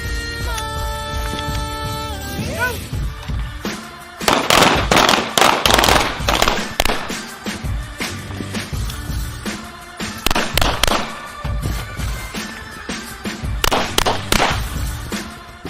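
Gunshots during shooting range drills, loud sharp cracks fired in quick pairs and triplets with short pauses between bursts, preceded by a sustained tonal sound at the start.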